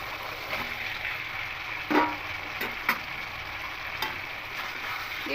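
Fried soybean chunks and potatoes stirred into an oily tomato spice masala, giving a continuous close sizzle with a few sharper spatula scrapes and knocks against the pan, no voices.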